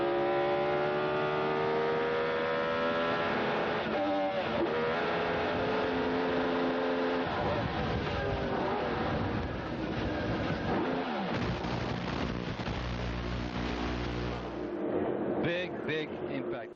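A 1999 IRL IndyCar race car engine screams loud and close from onboard, its pitch rising and falling through gear shifts, with a harsher burst of noise near the end.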